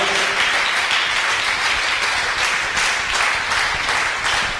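Church congregation breaking into sustained applause during a Sunday sermon, a dense, steady wash of many clapping hands heard close and loud without a pause.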